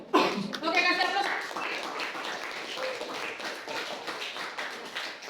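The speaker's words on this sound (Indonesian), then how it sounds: "Oke, kasih aplaus." A classroom audience at SMAN 1 Torue claps together after a student presentation, a steady, dense patter of many hands that runs the whole time at moderate loudness, with voices mixed in.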